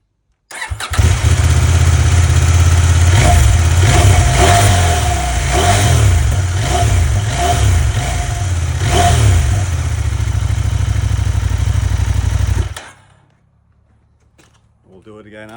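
A 2025 CFMoto 800MT-X motorcycle on its stock exhaust with the catalytic converter still fitted, starting up close and loud, then idling and revving in several blips for about twelve seconds before shutting off.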